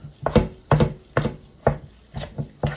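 A thick meatball mixture is stirred in a bowl with a spoon, five heavy rhythmic scraping thuds about half a second apart, close and clear with no talking.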